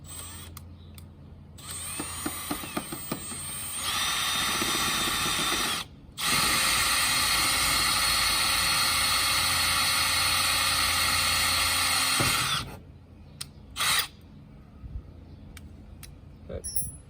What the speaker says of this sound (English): I drill the top hole